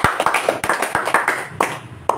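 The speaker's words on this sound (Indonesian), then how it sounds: "Tepuk tangan." A crowd clapping steadily, with a dense patter of hand claps and a few sharper claps standing out over a continuous roar.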